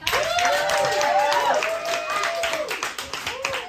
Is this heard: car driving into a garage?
no